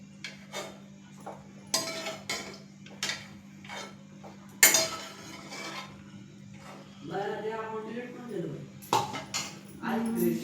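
Chicken is tipped into a kadhai pan in a kitchen, with a scatter of metallic clinks and clatters, one sharp bang, and a steady low hum underneath. A person talks between the clatters.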